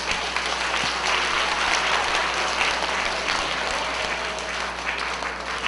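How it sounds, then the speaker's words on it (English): Schoolchildren applauding in a school gathering, a continuous, energetic burst of many small hands clapping at once, filling the room evenly for several seconds without speech on top. "give yourselves a round of applause."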